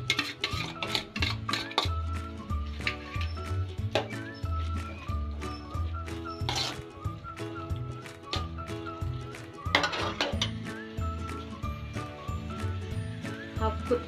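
Fried Hakka noodles tossed and stirred in a pan over high flame, with repeated metallic clinks and scrapes of the utensil against the pan in an irregular rhythm throughout.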